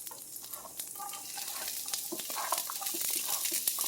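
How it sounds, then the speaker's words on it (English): Quiet, steady sizzling of onions and celery frying in a pan, with occasional soft stirring scrapes and clicks, close by. "I don't know if you guys can hear this little sizzle going there."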